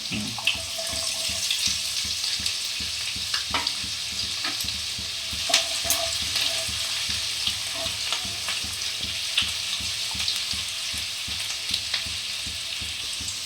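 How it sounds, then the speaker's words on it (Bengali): Chopped garlic, then ginger, frying in hot oil in a pan for dhaba-style egg tadka, a continuous crackling sizzle up close with intermittent scraping and stirring clicks. "এখানে আমি রসুন কুচিটা দিলাম। রসুন কুচিটা দিচ্ছ? এটা কি আদা কুচি? হ্যাঁ, এরপর আমি আদা কুচিটা দেবো।"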